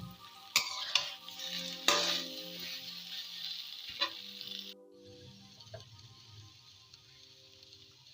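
Boiled potato pieces stir-fried in a pan, giving a steady sizzle with a few sharp scrapes and clatters of a spatula early on, then a quieter, softer frying hiss.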